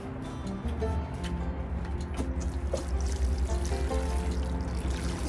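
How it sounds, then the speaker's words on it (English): Saved water from a 5-gallon pail poured into a plant pot for container gardening, a steady close trickle and splash running throughout with no voices. "Just have to give it some water."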